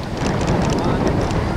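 Steady wind buffets the microphone outdoors in Killarney, Ireland, with a low, rumbling roar, loud and close, with no talk.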